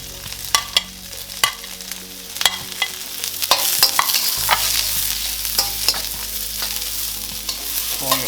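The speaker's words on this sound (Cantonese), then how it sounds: "放洋葱落去" Onions hit a hot wok with ginger for Hong Kong-style beef chow fun, scattered clatters and stirring scrapes giving way to a louder, sustained sizzle as they fry, close and with no talking.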